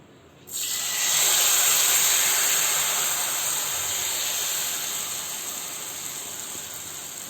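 Besan cheela batter poured into an oiled frying pan, a sudden loud sizzle that flares after a brief quiet start and then settles into a steady, slowly fading hiss.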